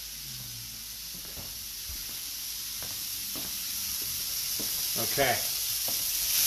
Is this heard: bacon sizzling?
yes